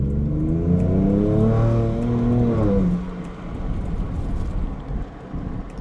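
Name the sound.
Ford Ranger Raptor 2022 accelerating at full throttle after turbo lag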